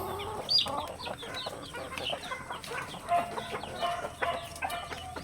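Several chickens cluck and murmur nearby in short, irregular bursts, soft but clear against a quiet background with no talking.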